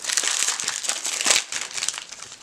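Crinkly foil wrappers of Transformers trading card booster packs being peeled open, a continuous close, bright crackling and crumpling with small bursts of tearing, no talk.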